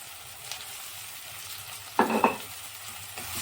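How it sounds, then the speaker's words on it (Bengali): Minced onion frying in a pan for veg manchurian, a soft steady sizzle with a couple of sharp scraping stirs of the spoon partway through. "ভালো করে ভেজে ব্রাউন করে ভেজে নেব"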